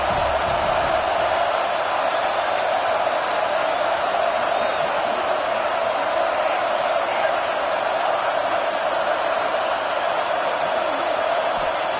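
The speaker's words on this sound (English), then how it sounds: "this crowd coming to life here trying to help the defense get a stop" A stadium crowd roars steadily in a college football game from NCAA 26, a dense sustained din with no pauses, loud and unbroken across the whole stretch.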